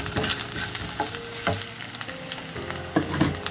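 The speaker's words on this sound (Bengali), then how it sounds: "এগুলো আমি ভালোভাবে ভেজে নেব।" Chopped coriander leaves fry in a pan with a steady close sizzle, broken by several sharp scraping stirs of a spoon against the pan.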